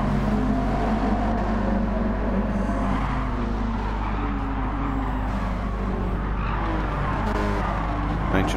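Race cars, a Bugatti Veyron among them, run on the Deep Forest track in Gran Turismo 7. A steady engine drone carries throughout, with tyres squealing and skidding, at a moderate level in the background.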